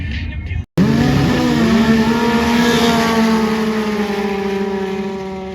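Can-Am UTV side-by-sides roaring off the line at a drag strip, one loud engine rising steadily in pitch as it accelerates hard, close and sustained after a brief cutoff; one spoken word at the start.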